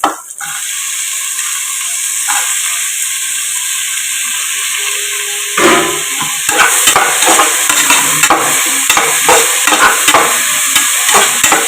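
Tomatoes sautéing in a pan for mutton biryani, a steady bright sizzle running throughout, joined about halfway by louder, closer clatter and scraping as the pan is stirred.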